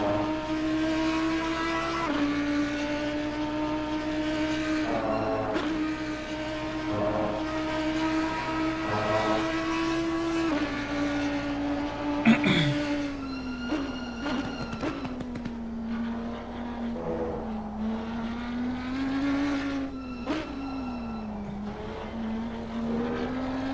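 Race cars in Assetto Corsa Competizione lap Silverstone with a loud sustained engine drone that rises and falls through gear shifts. A brief harsh burst comes near the middle, and no one talks.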